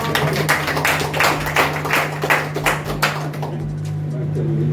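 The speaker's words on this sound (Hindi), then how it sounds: "इसके लिए 2000 तालियाँ।" Applause at a poetry evening marking International Literacy Day: loud rhythmic group clapping in clustered bursts under a steady hum, which dies away toward the end of the clip.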